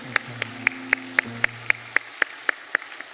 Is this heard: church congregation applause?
yes